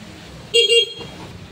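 A short motorcycle horn beeps twice in quick succession, loud and close, over a low idling rumble from a Keeway X-Speed 125 motorcycle.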